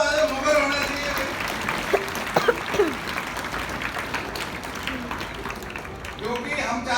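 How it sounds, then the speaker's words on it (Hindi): Schoolchildren at a convent school traffic-awareness session clap in a loose, moderate round, with voices and chatter mixed in throughout. "तालियां बजाओ"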